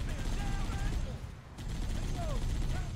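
Rapid gunfire in the Halo video game, a .50 caliber weapon firing steadily against alien elites, with sustained bursts that drop out briefly midway, loud and continuous with laser-like whines over it.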